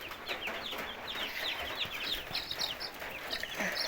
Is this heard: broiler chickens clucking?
yes